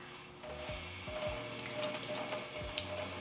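A Keurig K-Cafe water filter cartridge is rinsed under a running cold tap, a steady hiss of flowing water with a few soft knocks and clicks of the cartridge being turned, quiet and close.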